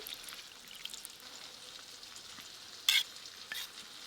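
Tomatoes cook down in a pan for a chicken curry with a soft, steady sizzle, broken near the end by two brief sharp clicks from the pan.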